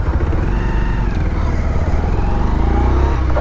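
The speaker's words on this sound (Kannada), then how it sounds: "ಇದು B S six engine so B S six engine ಏನಪ್ಪ ಅಂದರೆ ಫುಲ್ಲು ಸಾಫ್ಟ್ ಬರುತ್ತೆ" A Bajaj Pulsar 125 motorcycle with a BS6 engine runs steadily at idle, a constant close low rumble with no clear revving and no talk over it.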